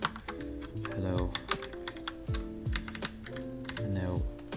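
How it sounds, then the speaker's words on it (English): Keys clatter in quick, uneven bursts on a computer keyboard while code is written in a JavaScript editor, close and steady with a faint hum behind, no talking. "you press / on your keyboard to make a comment"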